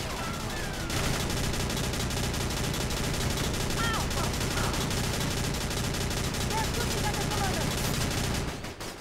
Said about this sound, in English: These MG nests are pretty darn powerful, so make good use of them.